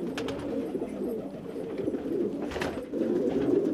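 Pigeon cooing from a clean, pure-bred dandey-maar pigeon, white on one side and black on the other, a home-bred fairy-type bird. Soft repeated low coos run steadily throughout, close and clear, with no talk.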